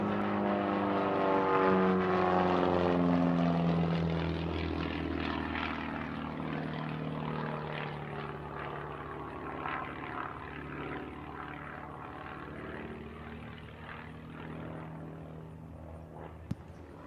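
Clemens Kulig's aerobatic propeller plane drones steadily through an outside barrel roll at an air show, the engine loud and near at first, then easing as it moves off, with shifting pitch throughout.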